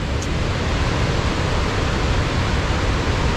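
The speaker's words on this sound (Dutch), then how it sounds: "Waterval of stroom?" Waterfall or rushing stream on a mountain pass in Sweden, a loud, dense and steady roar of water with no voices.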